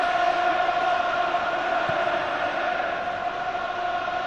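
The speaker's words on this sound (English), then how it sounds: "the Celtic crowd, of course, settling now with that opening goal" Football crowd at Celtic Park during a Celtic v Hearts match, settling after Celtic's opening goal: a steady, distant stadium murmur with a constant broad wash of voices and no sharp cheers.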